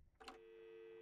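Phone ringing in the video game Adios: a brief click followed by a steady electronic telephone tone that holds on alone, quiet and even.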